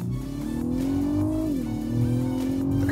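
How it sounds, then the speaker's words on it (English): Lexus LS 500 engine revving in Sport Plus mode, a smooth tonal drone rising steadily in pitch, dipping briefly, then climbing again, heard from inside the car with no talking. "It even pipes in some really pleasing engine noise."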